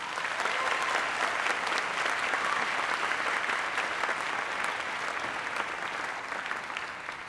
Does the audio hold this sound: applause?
yes